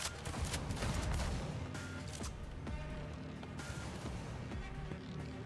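Gunfire in Cyberpunk 2077, a rapid run of sharp shots and booms with a louder opening burst then scattered cracks, set in a layered game soundscape, faint overall.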